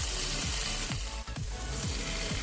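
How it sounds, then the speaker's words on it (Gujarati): Cumin seeds and asafoetida sizzle steadily in hot oil for Surati aloo puri, a close, continuous crackle broken by regular soft thumps, as if from stirring. "જીરું હવે તતડી ગયું છે, તો હવે અંદર હિંગ નાખી દઈશું."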